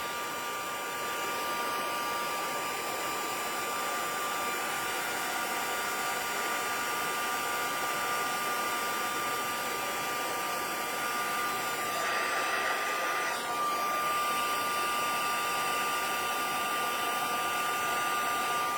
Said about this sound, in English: And now we'll put my heat gun on, pardon the noise.